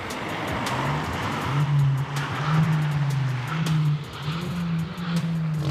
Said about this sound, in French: On en déduit qu'ils sont en train de faire des rodéos avec des voitures relativement puissantes.